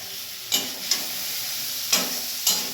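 Chowmein with soy sauce and red chili sauce stir-fried in a pan in a home kitchen, a steady bright sizzle with four sharp scraping stirs at irregular intervals and no talk.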